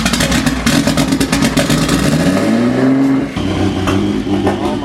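A Nissan GT-R engine revs hard and close, the pitch climbing in a smooth sweep before it drops back to a rough, loud idle with some rattling clatter.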